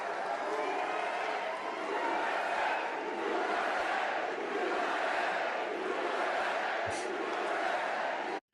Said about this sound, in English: they can't even feed the sample of the people yelling USA in time with the crowd